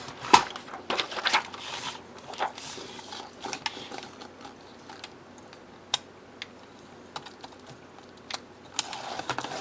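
A laminate pouch trimmed for a DIY planner writing board, with scattered crisp snips and small clicks from the cut plastic over a quiet room.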